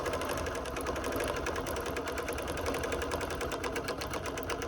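A sewing machine couches decorative yarn onto a quilt, running in a steady, close, continuous rhythmic whir with a fast even stitch pulse and no pauses.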